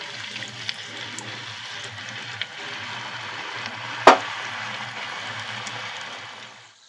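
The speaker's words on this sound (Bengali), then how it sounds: "আস্তে করে তেলে ছেড়ে দেবেন" Chat kachori dough sizzles steadily in hot oil, a soft continuous bubbling hiss at moderate distance, broken once by a sharp metallic clink partway through.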